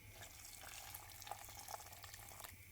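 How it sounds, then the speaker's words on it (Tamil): Hot water pours onto soya chunks in a bowl, a steady soft gushing stream of liquid for a few seconds, fairly quiet and without speech. "மாற்றிட்டு நல்லா சூடான தண்ணியை இதில் ஆட் பண்ணிக்கலாம்"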